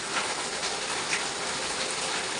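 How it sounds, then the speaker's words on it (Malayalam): Heavy rain pours outside, a steady, dense hiss with no breaks, fairly loud and even throughout, with no voices. "പുറത്ത് നല്ല മഴയാട്ടോ"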